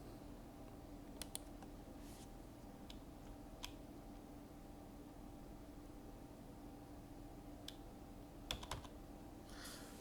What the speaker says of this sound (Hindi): तो मैं एंटर का बटन दबाऊँगा।